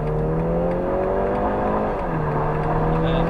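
A police car's engine climbs in revs as the driver gets back on the throttle after braking into a left-hand bend, a steady close whine of rising harmonic tone running throughout with no other sounds.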